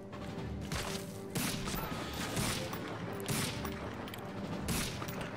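Gunfire and crashing explosions in the video game Medal of Honor Frontline, heard as repeated bursts of shots and booms over a continuous battle din, with no clear voices.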